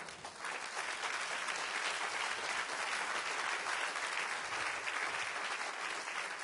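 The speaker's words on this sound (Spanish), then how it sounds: "Denle un aplauso al Señor." A church congregation bursts into sustained applause, a dense, even roar of many hands clapping at moderate distance that holds steady for several seconds without speech.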